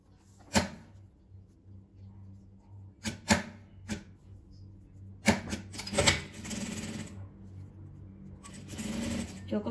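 A home sewing machine fitted with an invisible-zipper foot stitches the main fabric against a zipper in short mechanical bursts separated by pauses, close and fairly quiet, for a small pacifier-holder pouch.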